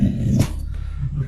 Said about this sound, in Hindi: साथ ही डॉगी भी उस पर भौंका